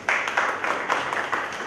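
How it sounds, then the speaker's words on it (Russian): Brief applause from a conference audience after a technical talk on Android development, a short burst of claps at moderate distance with no voices over it. "Аплодисменты"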